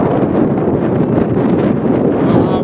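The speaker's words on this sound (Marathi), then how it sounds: "इथून भावानो वाऱ्याचा आवाज येईल थोडं सांभाळून घ्या" Strong wind blows across a hilltop in a forest reserve near Sangli, Maharashtra, a loud, steady roar buffeting the microphone throughout with no voices.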